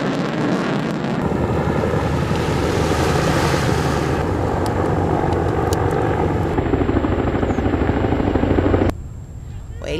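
Military helicopters thump and roar over the sea during the Medusa 11 joint naval exercise off Crete, a steady loud rotor drone mixed with wind and surf that drops away sharply near the end.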